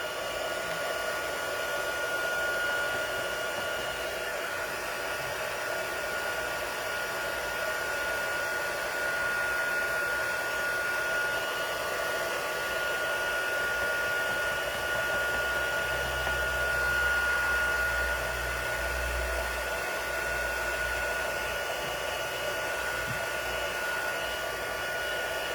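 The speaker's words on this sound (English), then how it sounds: "I'm going to use a multiple heat emboss technique just because I love this technique." A heat embossing gun melts embossing powder on a card during a multiple heat emboss technique, producing a loud, steady blowing whir that runs unbroken throughout with no talking.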